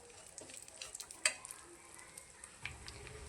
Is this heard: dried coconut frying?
yes